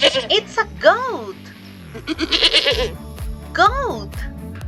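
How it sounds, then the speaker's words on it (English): A goat bleats several times in short, wavering cries, close and fairly loud, with brief pauses between calls and no talk. "It's a goat."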